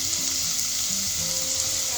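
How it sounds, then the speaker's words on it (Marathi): Chopped onion sautéing in a pan with bay leaf, giving a steady, close frying sizzle with faint stirring scrapes and no talk throughout. "कांदा छान मऊ होईपर्यंत परतून घ्यायचा आहे आपल्याला"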